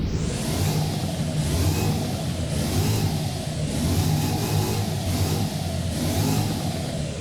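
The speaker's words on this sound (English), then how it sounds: "Now here is the revving." An American muscle car engine in the video game Driving Empire revs repeatedly in rising and falling surges, loud and close, with a steady rhythm of throttle blips and no talking.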